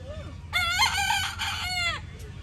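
A rooster at an outdoor fruit stand crows close by, one long strained cock-a-doodle-doo rising and breaking into several harmonic segments over steady low background hum, with no talk over it.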